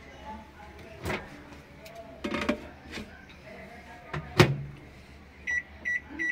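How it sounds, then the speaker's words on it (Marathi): A microwave oven is set to cook sliced onions for three minutes, with a few clunks and thuds, then a short run of electronic beeps near the end. "हे 3 मिनिटं कांदे आता आपण मायक्रोवेव्हला लावून घेऊया"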